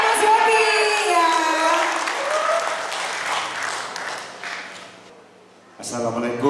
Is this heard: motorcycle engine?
no